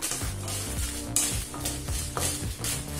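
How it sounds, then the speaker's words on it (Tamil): Dried red chillies roast over low heat in a pan, with a soft crackling sizzle and repeated scraping stirs against the metal, close and continuous throughout. "ஸ்லோலே வச்சு மிளகாய் தீயாத மாதிரி லேசா வறுத்துக்கோங்க"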